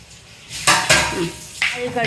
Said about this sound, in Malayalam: അടുത്ത പാത്രം എടുത്ത് കഴുകണം